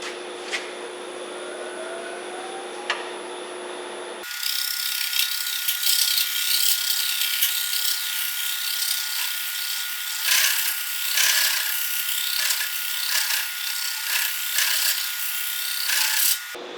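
A Beaver power tool flattens the wooden surface of a mallet. A steady tonal whine gives way to loud, rough, rasping grinding in repeated strokes, close and without speech.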